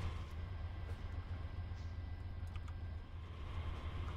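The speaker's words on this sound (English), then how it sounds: "That is a loud train." A loud train in Train Simulator 2019 keeps up a steady, heavy low rumble and engine drone with a faint whine above it, continuous throughout and unbroken by speech.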